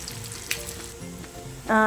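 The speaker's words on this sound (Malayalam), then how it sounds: "അങ്ങനെ ഞാനൊരു പാനിലേക്ക് കുറച്ച് ഓയിൽ ഒഴിച്ചിട്ടുണ്ട്. ഇനി ഇതിലേക്ക് ഞാൻ അത് ഫ്രൈ ചെയ്തെടുക്കുന്നുണ്ട്." A banana and rava snack frying in a little oil in a pan gives a soft, low crackle, with a small tap near the start and a louder burst of sizzle toward the end.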